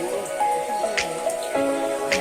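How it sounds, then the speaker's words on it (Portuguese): Rain falls on a campsite. Scattered drips and splatters land irregularly under a soft steady wash, along with a faint tonal hum. "A chuva tá descendo."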